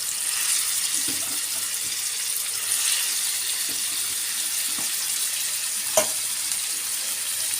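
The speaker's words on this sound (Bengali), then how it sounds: "চিংড়ি মাছ আমি সুন্দর করে বেছে ধুয়ে নিচ্ছি" Prawns being washed under a running kitchen tap, a steady hiss of flowing water with soft splashes and a few knocks, continuous at moderate level, with no speech.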